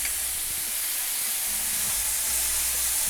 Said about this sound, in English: I'm going to saute this until the beef has fully cooked through.